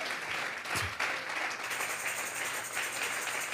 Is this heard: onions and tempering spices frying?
no